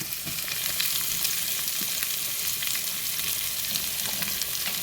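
Onion, green beans, carrot, garlic and green chilli sizzle together in a pan of hot oil with mustard seeds, fennel and fenugreek, a steady bright crackle with occasional stirring scrapes and no talking.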